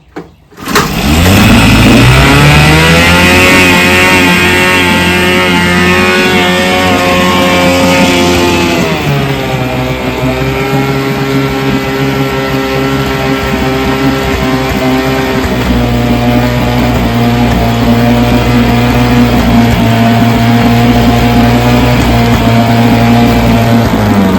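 A vintage 3 horsepower Evinrude or Johnson outboard motor catches and runs steadily, loud and close, with a steady droning tone that shifts pitch slightly around a third of the way through, then settles, with no voices.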